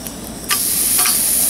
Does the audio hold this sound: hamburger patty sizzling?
yes